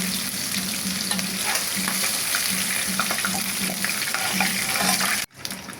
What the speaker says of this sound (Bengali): আমি এই আলুটাকেও ভেজে নেব।